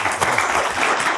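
Audience applause at a panel discussion on a competency-based school curriculum: a dense, steady wash of clapping from a crowd, fairly loud and continuous for the whole moment, with no voices over it.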